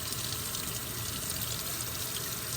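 Tap water runs steadily over an embroidery sticker, a constant soft, even rush of flowing water with no voices.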